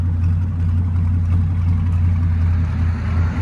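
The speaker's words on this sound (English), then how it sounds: "That's how old Mustang should sound." Deep, steady V8 exhaust rumble from a 2013 Ford Mustang GT 5.0L with a Solo Performance exhaust at idle, loud and close, with a constant low throb and nothing else.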